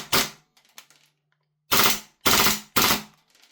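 A KWA Masada gas blowback airsoft rifle firing on full auto, one loud short burst followed after a pause by three more sharp bursts, close and crisp, with faint mechanical clicks in between.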